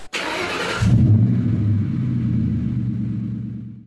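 A 2.8 Duramax diesel in a ZR2 pickup cold starts at about -3°F with no block heater: a brief cranking whir, then the engine catches and settles into a loud, steady low rumble, with no talking over it.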